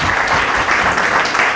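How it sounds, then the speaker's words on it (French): An audience applauding at a book signing event in a hall, a continuous, loud, dense patter of many hands clapping with no gaps. "Et je vous demande d'applaudir encore une fois"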